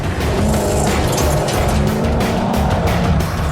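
Race cars speed through a slalom course around neon markers and a police car, engines loud and tires squealing continuously, with no break in the noise.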